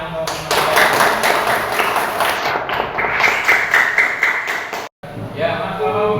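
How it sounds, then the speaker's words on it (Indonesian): A classroom of students claps together to reward a good answer during a lesson, a quick burst of many hands with sharp taps, then a brief cutout and more scattered clapping at the end. "Bagus jawabannya, tepuk tangan untuk"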